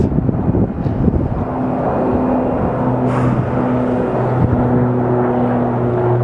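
An airplane at Phoenix Sky Harbor Airport runs with a steady, continuous engine drone and low tonal hum that holds at a fairly loud, even level throughout, with no talking.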